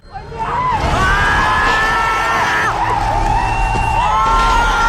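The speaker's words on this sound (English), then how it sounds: "You've done enough cheering, alright?" A movie audience cheers and whoops loudly during a superhero rescue scene, a dense, sustained roar of crowd yelling and screaming that swells quickly and holds throughout.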